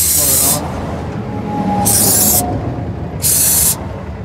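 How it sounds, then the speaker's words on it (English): Brake cleaner sprayed from an aerosol can onto a turbo actuator on an ISX engine, three loud, close hissing bursts of about half a second each with short pauses between them. "Take a can of brake cleaner"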